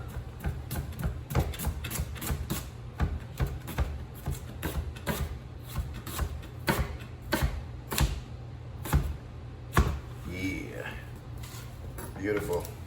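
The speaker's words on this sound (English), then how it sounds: "So I'm cutting all these onions for the fish." A knife chops onions on a cutting board for a fish dish, with rapid, steady knocks, some louder clacks, and light clatter of dishes. Someone talks now and then.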